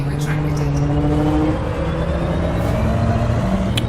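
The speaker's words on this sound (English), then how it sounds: "So I'm just going to take off now." A spaceship lifting off in the space game Elite: Dangerous, with a steady, rumbling engine drone and low humming tones, continuous and fairly loud, with occasional faint clicks.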